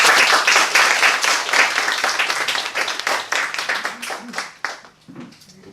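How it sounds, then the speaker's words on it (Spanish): An audience at a bookstore poetry book presentation gives a poet a loud, dense round of applause that thins out and fades to quiet near the end. "pido un muy fuerte aplauso para Carlos Germán Belli"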